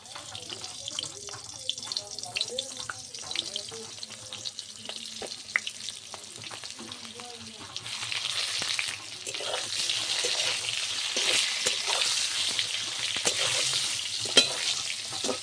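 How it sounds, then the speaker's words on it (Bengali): Eggplant slices coated in salt and turmeric fry in hot oil, giving a close, continuous sizzle that grows louder and denser partway through. There are occasional clinks and stirring sounds, with no talk. "লবণ হলুদ মাখিয়ে নিয়েছি বেগুনগুলো এবার ভেজে নেবো"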